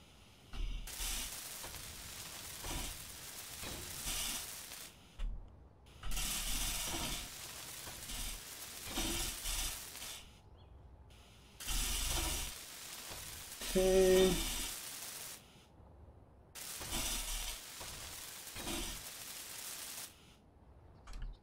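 Welding a rover in the video game Space Engineers: about four separate bursts of crackling, hissing sizzle, each a few seconds long, with quiet gaps between them and no talk.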